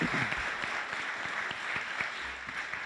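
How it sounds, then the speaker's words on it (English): Audience applause at the 2023 Ansary Entrepreneurship Competition at the Stevens Institute of Technology: a steady, dense wash of clapping from a crowd that holds at an even level throughout, with no voices over it. "I'm big on the clapping. Let's thank them, welcome them."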